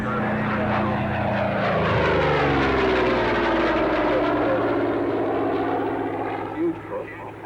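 A large-propeller World War II warbird trainer at the 1994 Warbirds Over Wanaka airshow in New Zealand drones loudly and steadily with a deep, pulsing engine roar that slowly shifts in pitch as it passes, while a commentator talks over it.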